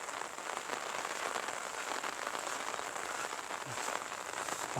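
Rain drizzles across farm fields in an unbroken close patter and hiss, with a couple of faint low thumps near the end and no one talking.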